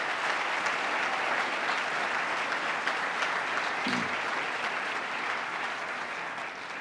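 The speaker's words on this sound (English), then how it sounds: "Let's give the Comptroller a big round of applause and thank him for his great work." A big room full of people applauds the state Comptroller during the governor's agenda speech, continuous dense clapping at moderate distance with one brief thump partway through, tapering gently near the end.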